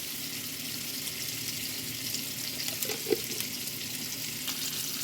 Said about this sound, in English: While my chicken is sizzling